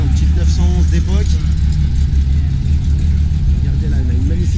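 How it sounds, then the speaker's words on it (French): A vintage Porsche 911 runs with a steady low engine rumble at a supercar gathering, the sound continuous and close among crowd noise, with people talking over it throughout. "Belle voiture là ce matin, petite 911 d'époque."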